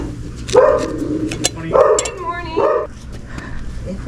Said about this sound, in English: Oh, doggy. They're gone crazy.